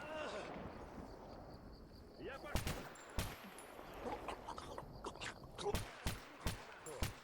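Gunfire in the video game S.T.A.L.K.E.R. GAMMA: a scattering of sharp shots and short bursts, some distant and some closer, spread irregularly over a dim background of ambience.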